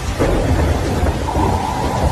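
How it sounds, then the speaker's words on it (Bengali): A loud, close thunderstorm with heavy rain, a continuous deep rumble of thunder rolling over the steady hiss of rainfall, used as an effect in a spoken horror story, with no voice present. "অন্ধকারে বিদ্যুতের গর্জন"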